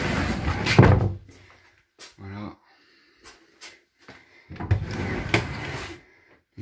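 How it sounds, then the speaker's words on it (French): A sliding pocket door sliding into its wall cavity gives two longer rolling whooshes with a brief rattle and a few small knocks between them. Speech comes and goes around it. "j'avais fait une porte, hop, en galandage."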